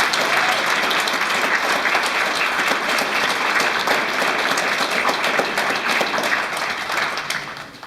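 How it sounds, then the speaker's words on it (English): Sustained audience applause at a UN Human Rights Day event, dense steady clapping from a large crowd that holds for several seconds before tapering slightly at the end. "Can we have another round of applause for Marshall?"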